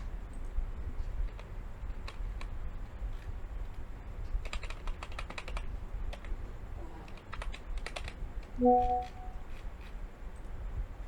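Quiet computer keyboard typing in short clusters of quick key clicks at a username prompt, followed by a brief electronic beep.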